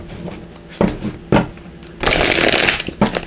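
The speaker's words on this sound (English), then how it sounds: "So let me just shuffle these up here one more time." Tarot cards being shuffled by hand, with a few short riffling bursts followed by a longer, louder continuous shuffle close to the microphone and no speech.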